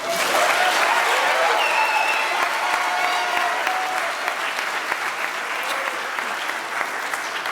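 An audience at a school awards ceremony claps in sustained, dense applause, loud and even at first and easing slightly as it continues, with no voices over it.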